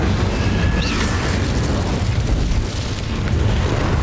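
The Incendio fire spell is cast in Hogwarts Legacy on Nintendo Switch, giving a sustained, loud, whooshing roar of flame with a deep rumbling body that holds steady throughout.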